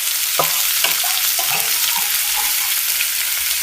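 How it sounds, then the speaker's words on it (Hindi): Curry leaves fry in hot oil for restaurant-style daal mash, a loud, bright, continuous sizzle with several sharp spatters and stirring scrapes close by. "करी पत्ता की बहुत अच्छी खुशबू आती है इसकी। तो उसको फ्राई कर लेते हैं।"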